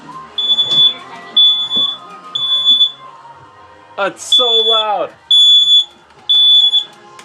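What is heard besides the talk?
smoke alarm set off by vape clouds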